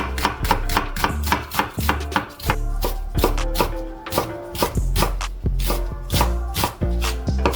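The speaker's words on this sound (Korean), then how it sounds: "양파는 다져줄게요." A knife minces onion on a cutting board for a one-pan rosé pasta, giving quick, close, rhythmic chops in uneven bursts with brief pauses and no talking.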